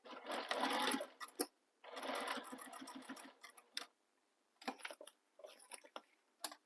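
A sewing machine stitches a crossbody bag seam in two long close bursts, then several short stop-start runs of stitching with brief pauses between.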